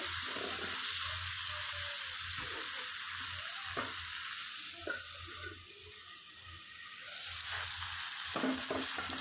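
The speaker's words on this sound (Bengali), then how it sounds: "আলু আর পটল সুন্দরভাবে ভাজা হয়ে গেছে" Potatoes and pointed gourd frying together in a pan, a continuous soft sizzle with occasional stirring clinks and scrapes, no voices.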